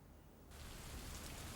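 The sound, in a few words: rain starting to fall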